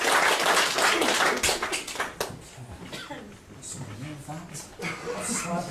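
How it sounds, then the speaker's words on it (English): An audience at a magic stage show claps for a volunteer in a burst of applause that fades after a couple of seconds, then a performer talks. "Give him a round of applause as he makes his best work."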